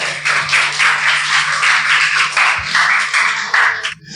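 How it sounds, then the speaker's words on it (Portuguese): A church congregation at an evening service applauds for Jesus: dense, steady clapping from many hands fills the room, loud and continuous, with a low hum underneath, before it tapers off at the end. "Você pode aplaudir o Senhor Jesus nesta noite?"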